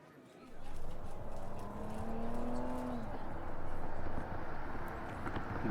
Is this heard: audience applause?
no